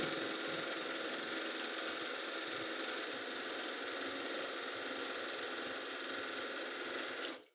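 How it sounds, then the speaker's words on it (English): A Grace SureStitch sewing machine runs at a quicker speed, a steady, dense mechanical whir of rapid stitching that holds evenly and close before cutting off abruptly at the end. "This time you'll notice the machine will be stitching at a quicker speed."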